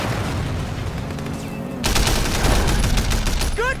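Gunfire in the video game Sleeping Dogs: rapid automatic bursts that start partway through and then run as dense, loud volleys, close to the listener.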